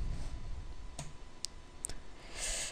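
Several quick computer mouse clicks, single and isolated, tap out at close range against a steady low hum of background noise while clicking a download button.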